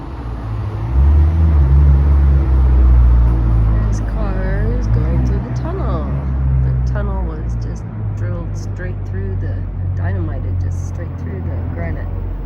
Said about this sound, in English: There's cars going through the tunnel.